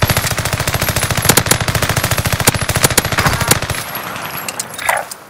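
Rapid automatic gunfire rattles in a dense, even stream of shots for nearly four seconds in Call of Duty: Modern Warfare, loud and close, then cuts off, leaving a few quieter game sounds.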